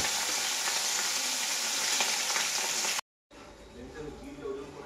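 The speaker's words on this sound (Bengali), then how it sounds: "এই যে হালকা হালকা ভাজবো, বেশি আমি কোনো ভাজবো না" Hilsa fish pieces fry lightly in oil, giving a close, even sizzle that holds steady for about three seconds. After a brief break, quieter frying resumes under soft kitchen noise.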